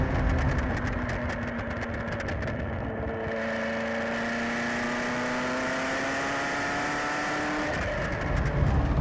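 Ferrari F40 engine held in third gear on a test drive, a steady, loud droning pull from inside the car with the pitch climbing slowly, then easing off near the end.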